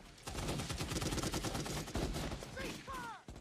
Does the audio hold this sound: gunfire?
yes